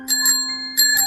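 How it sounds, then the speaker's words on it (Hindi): An old bicycle bell rings in a horror story scene, three quick bright metallic rings with a steady sustained tone beneath, close and loud. "तभी बाहर से साइकिल की पुरानी घंटी की आवाज आती है"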